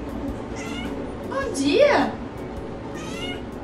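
Grumpy female cat lets out a drawn-out, rising and falling complaining meow, close and clear, with shorter meowing sounds before and after while a person speaks briefly.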